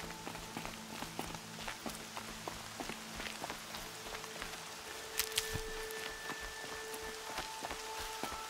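Steady rain falls in the video game Horizon Zero Dawn, a continuous hiss of drops on surfaces with scattered patters and faint footsteps, a low ambient tone running underneath.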